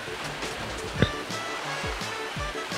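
Steady rushing surf from the waves of Super Mario Galaxy fills the background, continuous and even, with a short bright chime and repeated low game sound effects layered over it.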